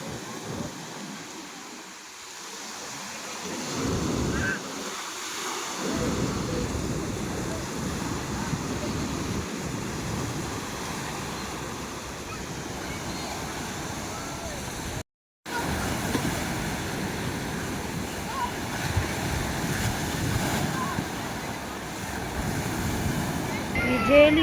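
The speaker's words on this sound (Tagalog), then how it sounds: "Lakas na ng alon." Strong ocean waves roll in continuously at a beach resort in Tarnate, Cavite, with loud surf wash and gusty wind buffeting the microphone, and voices now and then underneath.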